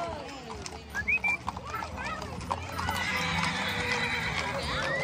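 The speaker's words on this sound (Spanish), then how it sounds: "Qué chulada de caballos, ¿eh?" A horse whinnies in short, high bursts amid people talking nearby, with faint hoof clops in the background.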